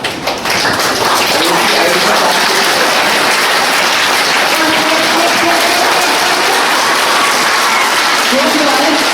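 A hall full of students claps together in a loud, dense, sustained wash of applause, steady from start to finish, with voices faintly audible under the clapping.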